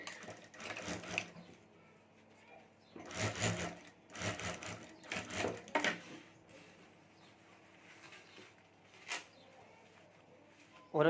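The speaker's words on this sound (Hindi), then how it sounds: "यहाँ मैं जिप के ऊपर सिलाई कर देता हूँ" Sewing machine stitching along the top of a zip on a handmade fabric mobile cover, heard as several loud bursts of rapid mechanical whirring separated by pauses, with quieter handling noise between runs.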